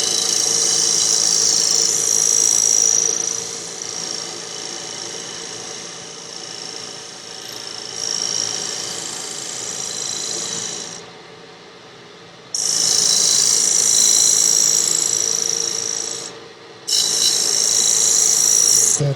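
A negative rake scraper cleaning up a wooden lidded box turning on a lathe, a loud rasping scrape in long passes over the steady whir of the machine, pausing briefly between cuts.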